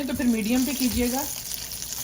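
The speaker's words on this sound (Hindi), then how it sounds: "मीडियम हाई आंच पे हम फ्राई करेंगे।" Coated chicken pieces fry in oil at medium-high heat with a steady sizzle, mostly covered by someone talking close by.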